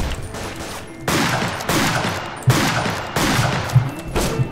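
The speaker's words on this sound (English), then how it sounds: "Who's shooting me?" Gunshots ring out in the Fistful of Frags western shooter game, several loud reverberant blasts about a second apart, each trailing into echo.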